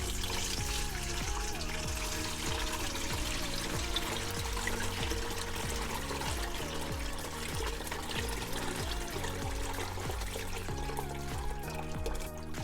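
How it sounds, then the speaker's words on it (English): Liquid for Liberian palm butter pours through a strainer into a pan in a continuous splashing, gurgling stream, close and steady throughout with no talk. "just set your strainer and then pour your liquid into the pan like this."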